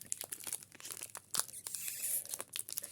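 A package being torn open by hand: close, quiet crinkling and crumpling of plastic with sharp tearing rips scattered irregularly throughout.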